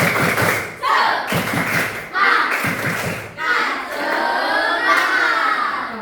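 A classroom of children performing the 'tepuk semangat' cheer, a rhythmic Indonesian clapping chant, during a teacher's lesson; bursts of loud, patterned claps and thumps in several groups, mixed with children's shouted chanting.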